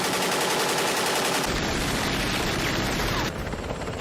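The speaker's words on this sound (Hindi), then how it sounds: "सर, यहाँ पर कंटिन्यू मशीन गन की फायरिंग हो रही है।" Continuous machine gun fire in a war movie: a loud, dense, unbroken rattle of rapid shots that fills the whole stretch without a pause.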